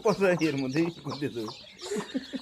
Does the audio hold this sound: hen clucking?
yes